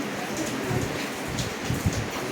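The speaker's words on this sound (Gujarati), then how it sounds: "આ વરસાદ ચાલુ છે પાવરફુલ" Heavy downpour falling steadily, a dense, continuous hiss of rain on surfaces with soft low rumbling underneath, close and loud with no talking.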